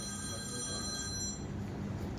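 A phone rings faintly with a thin electronic tone over a muffled background hum, fading out partway through.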